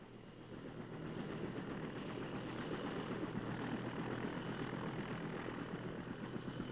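A military air ambulance helicopter flies steadily overhead, its rotor and engine drone holding a constant, fairly distant roar throughout with no talk.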